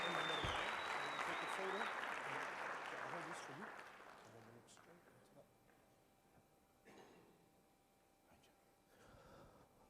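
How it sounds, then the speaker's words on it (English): Audience applause at an enterprise development training event, loud and dense for about three seconds, then fading into scattered claps and low murmuring for the rest. "One more time, a round of applause."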